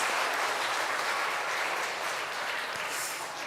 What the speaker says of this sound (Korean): 여러분 다시 한번 큰 박수 해주시길 부탁드립니다